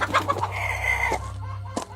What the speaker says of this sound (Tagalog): Mahabang oras na umistambay sa silong ng bahay si Aling Rowena kasama ang mga manok